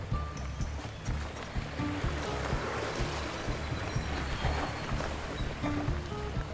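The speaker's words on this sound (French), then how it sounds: "le petit bruit de ruisseau qui me donne envie de pisser" A small stream in a forest babbles and gurgles continuously, close and fairly loud, a steady wash of trickling water with small splashes and no talking.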